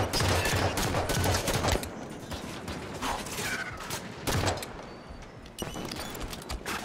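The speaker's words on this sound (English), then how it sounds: "I'm gonna use the hell out of this gun until I'm done with it." Sustained gunfire from a weapon in the Halo 5: Guardians shooter, loud and close, with dense rapid shots in long bursts interrupted by brief pauses and mechanical clatter.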